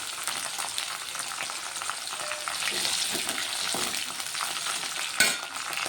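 Green chillies and garlic fry in hot oil for a spicy ridge gourd and tomato chutney, giving a steady close crackling sizzle with light stirring scrapes and a sharper clatter near the end, no voices.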